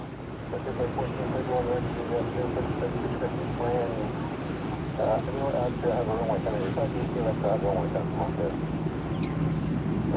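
An Emirates Boeing 777-300ER airliner at Orlando airport gives a steady broad jet roar that holds throughout, with wind noise on the microphone and a person talking over it.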